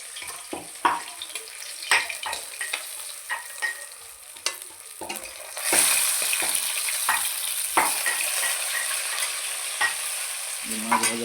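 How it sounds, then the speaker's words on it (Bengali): Fish sizzles in hot oil in a wok, a continuous frying crackle broken by irregular scraping and clinking as a utensil stirs and turns the pieces, close and moderately loud. "কড়াতে মাছ ভাজা হচ্ছে।"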